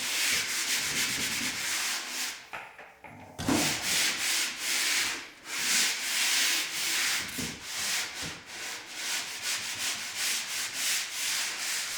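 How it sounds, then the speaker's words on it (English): Drywall ceiling being sanded by hand in a home renovation: repeated rasping strokes, close and loud, in a steady back-and-forth rhythm with a short pause partway through and no talking. "I'm going to give this whole ceiling another sanding real quick"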